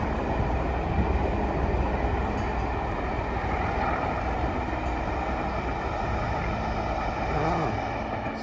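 A train rumbles past nearby, a loud continuous roar of wheels on rails holding steady throughout with no voices.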